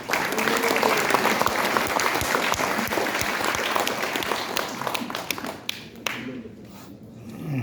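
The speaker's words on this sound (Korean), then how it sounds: "박수로 맞이합니다." A crowd at a political launch rally claps to welcome a speaker, with loud, dense applause that thins out and fades toward the end.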